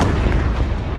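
Large explosion that flattened a small mining community near Bogoso, Ghana, heard in news report footage as a loud, sustained roaring blast that fills the full second before cutting off abruptly.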